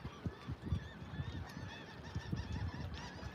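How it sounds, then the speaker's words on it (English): Seagulls honk and call repeatedly at a New Orleans lakeside pier near a boat ramp, their cries close and overlapping with a steady rumble of wind and ambient noise. "the seagulls are loud"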